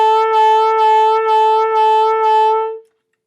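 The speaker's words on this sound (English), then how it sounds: "I'm using my jaw, my lower lip to go wah, wah, wah, wah. Should sound like this." A single sustained saxophone tone pulsing in a steady wah-like jaw vibrato, about five or six swells, loud and solo, then cutting off.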